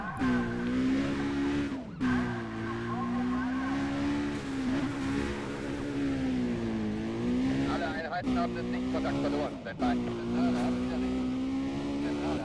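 Car skidding in the racing game Need for Speed Undercover, a steady droning engine with tire squeal sliding through the mix, with brief dips and surges over about twelve seconds.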